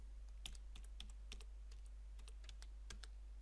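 Keys clatter on a computer keyboard as a registry key name is typed, in quick irregular bursts of soft clicks, close and quiet over a low steady hum, with no talk.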